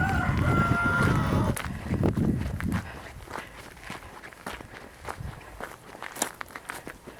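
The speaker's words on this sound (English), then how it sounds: "Walk up the driveway." Footsteps crunch up a garden driveway in a series of irregular, close steps, following a louder opening of rustling and a rooster-like call in the background.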